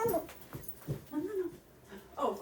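A dog whimpers and yips in short, high, whining cries, several in a row with brief gaps, fairly close and soft.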